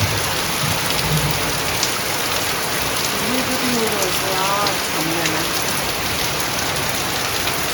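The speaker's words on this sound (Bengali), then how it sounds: "দেখুন একেবারে বৃষ্টি, বাপরে বাপ।" Heavy rain pours steadily outside a house in a dense, unbroken hiss, with someone speaking briefly over it.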